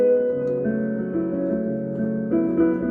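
Solo piano lesson passage, with a delayed octave of B sounding against sustained chords; the notes ring steadily and close, with no talking.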